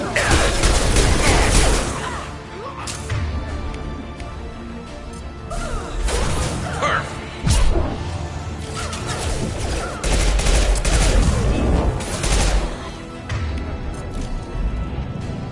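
Rifle gunfire in the sci-fi shooter Mass Effect 2, repeated loud bursts and crashing impacts amid a busy combat din, with a voice talking over parts of it.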